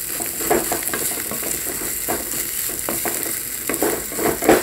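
Mutton keema sizzling and frying in a pan with wild coriander as it is stirred, with steady crackle and repeated scraping strokes of the spoon running throughout at close range, no talking.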